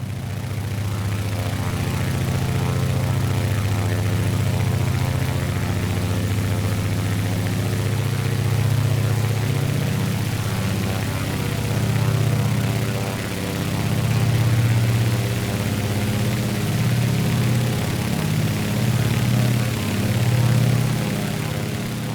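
Twin propeller engines of a Beechcraft 18 drone steadily on final approach in Microsoft Flight Simulator, a continuous low throbbing hum with slight swells in power and no talking.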